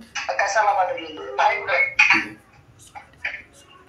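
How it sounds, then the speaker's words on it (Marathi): A phone's ringtone sounds in short melodic bursts, bright and close, then tapers into quieter fragments. "एक मिनिट थांबा कॉल येतोय."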